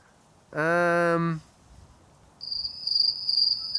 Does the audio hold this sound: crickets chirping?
yes